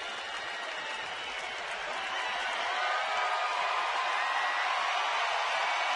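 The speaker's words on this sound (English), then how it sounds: "Now this crowd's starting to come alive." A baseball stadium crowd cheers with a broad, steady roar that swells and grows louder partway through, continuous and distant-sounding with no clear voices standing out.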